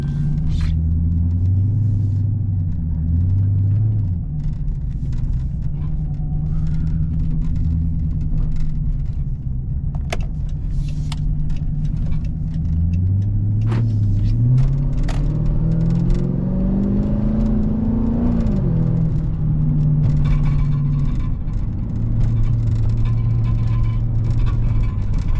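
Dodge Charger Pursuit cruising through city streets at night, its engine droning and revving through shifting rpm, with clicks and rattles from loose tailpipe extenders on the exhaust.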